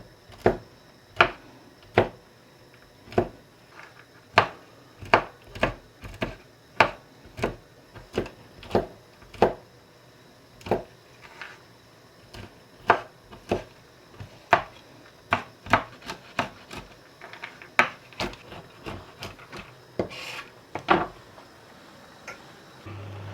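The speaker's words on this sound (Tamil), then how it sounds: "ஒரு கப் கடலைப்பருப்புக்கு 2 கையளவு காஜி நட்ஸ். இதை கொஞ்சம் சின்ன சின்னதாக கட் பண்ணி வச்சுக்கொள்ளுவோம்." A knife chops cashew nuts into small pieces on a board in a home kitchen, making steady, evenly spaced sharp taps close up, one after another for the whole stretch, with no talking.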